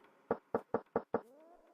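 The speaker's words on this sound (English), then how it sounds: "Knock on door." Five evenly spaced knocks on a door in the video game Quest for Glory II VGA remake, crisp and close, followed by a faint lingering tone, with no voices.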